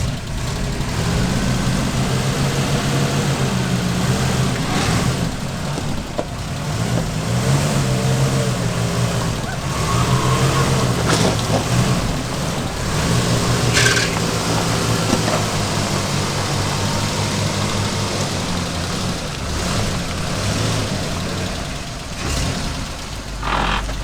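An unhealthy-sounding GMC K20 pickup truck engine that burns a lot of oil runs steadily for a long stretch, a loud, low, rough rumble with small swells of revving and faint clatter, close by and with no talk.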